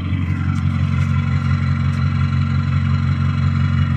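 A car exhaust burbles at a low, steady idle, heard up close from behind the car, a deep throaty rumble with no voices.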